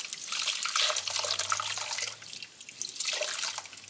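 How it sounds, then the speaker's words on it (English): Homemade lobster stock being strained, a steady splashing pour of liquid with trickling and dripping throughout, close and moderately loud, no talk. "I strained all my stock"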